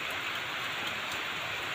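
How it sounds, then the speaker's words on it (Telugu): Heavy rain pours down in a dense, steady hiss, constant and loud throughout. "ఫుల్ వర్షం పడుతుంది"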